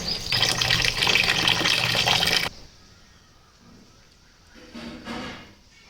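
Soaked mixed lentils rinsed under clean running water: a loud, steady gush for a little over two seconds stops abruptly, leaving quiet handling and a faint splash of water afterward.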